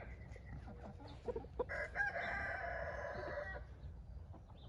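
Chickens cluck in a backyard garden and a rooster crows once in a long, clear call, moderately close, with scattered softer clucks before and after.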